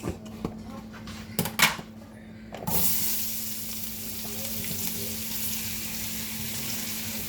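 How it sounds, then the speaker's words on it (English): Onions dropped into hot butter and oil for French onion pork chops, a few clattering knocks and handling sounds, then a sudden loud burst of sizzling that settles into a steady close frying hiss, no speech over it. "Well, the butter and oil is definitely ready. So now we're gonna add our onions."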